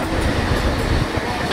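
A passenger train bound for Kolkata runs with a loud, dense rattling roar of wheels and carriages heard from on board, continuous throughout.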